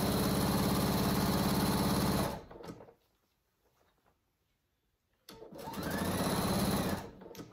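Sewing machine stitching the seam of a fabric cat carrier cover, a steady fast whirring run, a pause of near silence, then a second run of stitching, close and loud with no talk.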